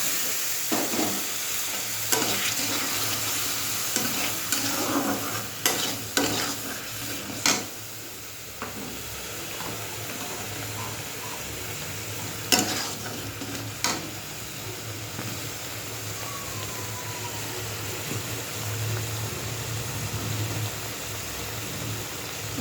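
Spices sautéing with salt, a little water, turmeric and chili powder in a pan, a steady close sizzle broken by occasional scraping stirs of a spatula.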